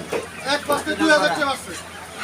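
Chickens cluck and squawk in a noisy crowd at a poultry market, several birds calling at once under steady human chatter.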